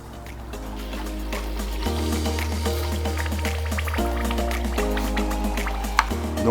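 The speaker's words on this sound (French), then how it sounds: "On va pouvoir maintenant remplir d'eau chaude et faire les 3 rinçages." Hot water pours into a professional Sylco S930 soft-serve ice cream machine for its rinse cycle, a steady filling rush with a low droning motor tone that shifts in steps, dripping and gurgling throughout.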